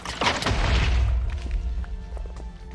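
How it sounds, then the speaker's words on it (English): Wither explosions in the Minecraft modpack FTB OceanBlock, a loud booming blast that rolls on for about a second, followed by scattered smaller thuds and crackles as it fades. "So that's what the explosions are."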